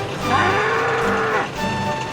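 A cow lets out one long, loud moo nearby, the low call swelling and then tapering off.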